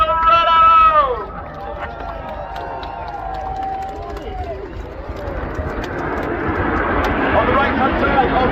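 Red Arrows jets in Diamond 9 formation at the Blackpool airshow, a broad jet roar building from afar and swelling louder over the last few seconds, with an announcer's voice early on and crowd noise beneath.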